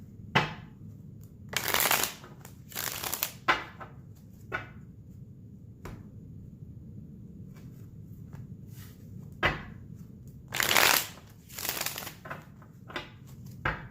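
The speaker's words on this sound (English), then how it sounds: "Don't know why I'm shuffling so much at the moment" Tarot cards shuffled in quick riffling bursts, several rounds separated by short pauses and light taps, close up with no talking.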